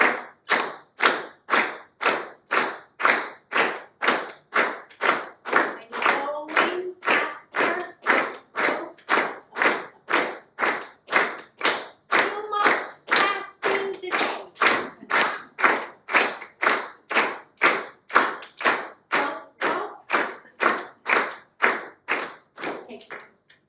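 A group claps together in a steady, even pulse, dozens of crisp evenly spaced claps continuing for over twenty seconds, with voices murmuring faintly beneath the beat.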